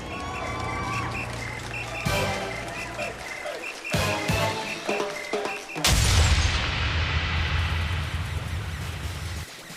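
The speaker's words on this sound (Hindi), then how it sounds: "यह आतिशबाजी करीब 10 मिनट तक होती रही।" New Year fireworks in celebrations welcoming 2016, bursts of booming explosions and crackling over a background of music and crowd noise, with loud sharp blasts around a few points and a heavy burst late on.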